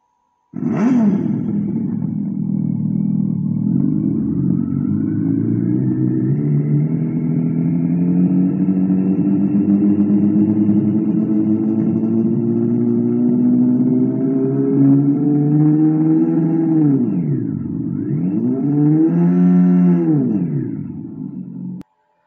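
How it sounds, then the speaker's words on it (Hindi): A Revolt RV400 electric motorcycle plays its fourth artificial engine sound, Rage mode: a loud sustained synthetic roar that rises slowly in pitch, then dips and swells again near the end like revving, with no one talking. "और ये इसकी फोर्थ साउंड है रेज करके।"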